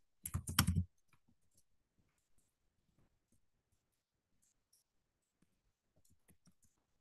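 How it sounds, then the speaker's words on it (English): A computer keyboard is typed on in a quick burst of close, crisp keystrokes, followed by several seconds of faint, scattered clicks in an otherwise quiet room. "I'm going to type that here."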